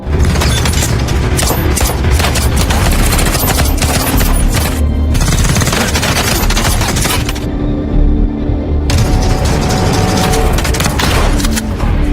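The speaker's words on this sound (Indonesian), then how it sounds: "Bishop menyerang mereka berdua sampai terjadilah adu tembak" Gunfight scene from an action movie about a security guard and a mafia boss, with dense bursts of gunfire, heavy booms and shattering blasts running loud and continuous throughout, with no speech.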